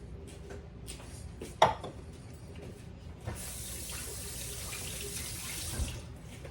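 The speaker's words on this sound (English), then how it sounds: "I still have to wash my hands off even though I'm fixing to put them right back in it" A kitchen tap is turned on at a sink to wash hands while making salmon patties. A sharp clink comes first, then steady running water fills the second half, fairly close and with no talking.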